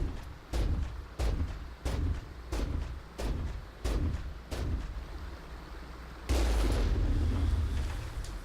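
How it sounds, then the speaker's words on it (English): Eight booming Mako tank cannon shots in Mass Effect fired at a steady pace, followed by a louder, longer rumbling blast near the end. "notice I took 12 shots with the Mako cannon before I started this"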